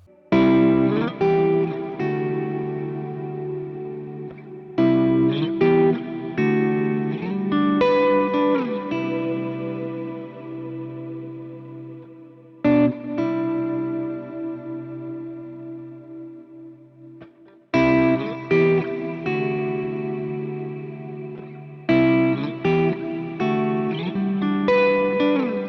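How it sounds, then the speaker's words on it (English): Electric guitar played through a shimmer-style reverb on an AXE-FX 3 or Kemper Profiler: phrases of chords and notes in several bursts, each trailing into a long, bright, sustained wash that hangs between the phrases. "we'll just look at like a shimmer style reverb"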